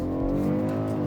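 A 2020 BMW M550i xDrive launches hard under launch control, its engine note holding a loud, steady, high-revving roar that is heard close up from inside the car for a brief moment.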